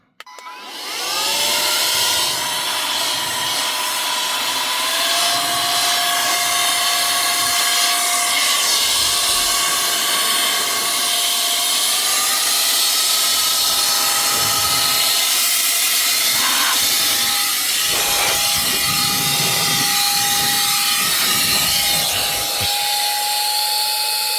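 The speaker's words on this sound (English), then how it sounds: "this is an air duster" A Vogma V7 electric air duster blows continuously and loudly, a strong steady whoosh with a high motor whine that shifts pitch slightly as it runs, heard alone without talking.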